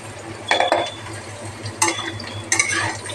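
Beans and carrots tip into a pan of lightly fried onions: three distinct scraping, clattering stirs over a constant low frying hiss, close and fairly loud.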